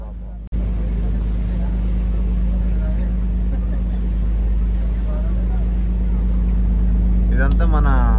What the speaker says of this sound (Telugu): మా పడవ ప్రయాణం అయితే స్టార్ట్ అయిపోయింది. మేమైతే బయలుదేరుతున్నాం చిన్నగా